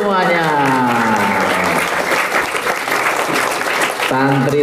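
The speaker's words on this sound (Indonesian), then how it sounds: "tepuk tangan buat kita semuanya" Students at a boarding-school supercamp burst into loud, sustained clapping that fills the room, framed by a speaker's voice just before and again as the applause fades.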